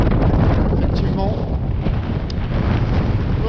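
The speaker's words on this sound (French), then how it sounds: "Ça souffle." Strong wind buffets a sailboat motor-sailing in the Atlantic toward a forecast 30-knot blow, a steady loud roar across the microphone with a brief voice underneath.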